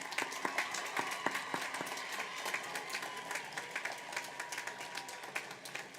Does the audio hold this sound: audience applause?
yes